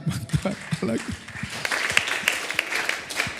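Applause from a church congregation at a Sunday morning service, a rising patter of clapping mixed with scattered voices and low talk, continuing steadily for a few seconds.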